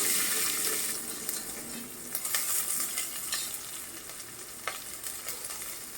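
Chilli and onions sizzle in a hot pan while a spoon stirs them, a steady close frying hiss broken by sharp scraping clicks, with no talking.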